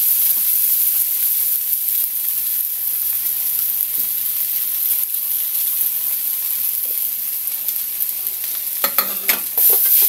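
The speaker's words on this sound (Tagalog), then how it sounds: "Haluin natin at durugin natin yung kanin" Leftover rice frying in a pan with oyster sauce, stirred and broken up, giving a steady close sizzle with scraping stir strokes and a brief louder clatter near the end.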